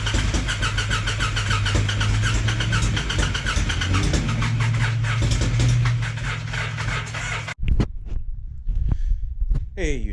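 A freshly rebuilt Polaris Sportsman 700 ATV engine cranks and runs with a steady, loud mid-pitched drone for several seconds, then cuts off abruptly, leaving only faint scattered knocks and movement close by.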